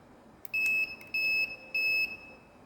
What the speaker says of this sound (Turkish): Burada C'ye basıp 3 kere bip sesi aldık.